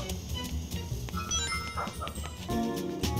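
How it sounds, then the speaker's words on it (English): Dog barking somewhere in the background, several short yips and barks scattered through the clip, faint behind game sound. "You can probably hear my dog barking in the background."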